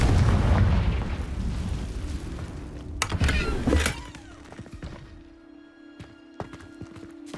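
A fire-blast spell goes off in the Hogwarts Legacy video game as a sharp crackling burst with a rumbling boom, after a loud dense battle din, then fades into a quieter, hollow game ambience with a few faint knocks.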